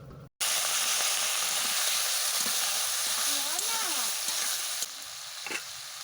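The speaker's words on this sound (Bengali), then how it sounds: "বেগুন দেওয়ার পর আরও 2 থেকে 3 মিনিট ভালোভাবে আমি কষে নেব।" Eggplant and gima greens frying in a pan for a Bengali chorchori, a loud continuous sizzle with occasional spatula scrapes as they are stirred, a faint voice briefly heard beneath.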